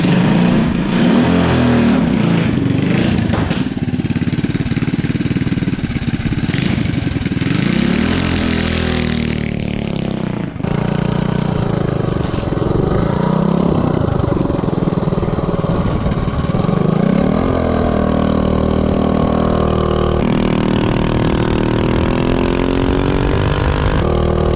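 A 212 Ghost small engine fitted with a Noram Cheetah clutch set to engage around 4,000 RPM, running loud and close with continuous revving rising and falling over a steady drone.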